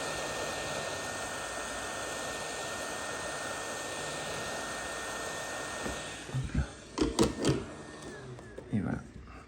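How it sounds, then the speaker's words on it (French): A hair dryer blows hot air onto a Nintendo Game Boy Color screen to loosen it, a steady loud rushing whoosh that cuts off partway, followed by scattered handling clatter. "vous prenez un sèche-cheveux ou n'importe quoi qui fait du chaud"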